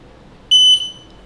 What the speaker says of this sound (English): backing up will not trigger the reverse alarm.